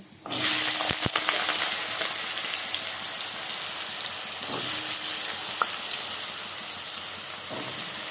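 Cut potatoes hit hot spiced oil and fry with a loud, steady, close sizzle and hiss. A few clinks of a utensil come near the start.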